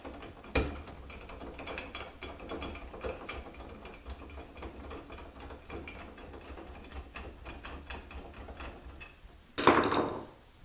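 A screwdriver turns a screw into a doorknob on an interior door, giving a steady run of faint, repeated ratcheting clicks and scrapes close by, ending in a louder metallic rattle.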